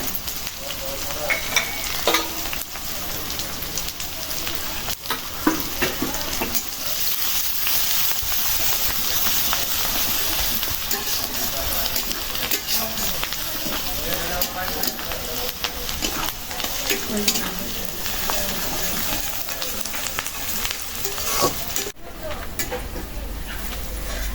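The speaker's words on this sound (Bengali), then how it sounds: "ভাজাটা একদম লাল করে ভাজলাম" Country chicken frying with ground spice paste in a pan gives a steady, loud sizzle and crackle, with occasional stirring scrapes, under intermittent talk.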